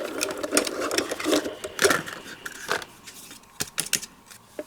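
A Diamond Press die cutting machine runs paper through, giving a quiet burst of uneven mechanical clicking, whirring and grinding that comes and goes in short pulses up close.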